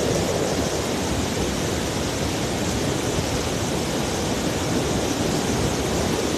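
A strong river current rushes in a continuous, dense roar of broadband noise, loud and unbroken with no talking.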